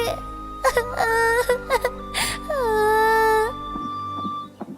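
A high, drawn-out wailing cry with several short sobbing bursts before it, close and loud, over a low steady background hum.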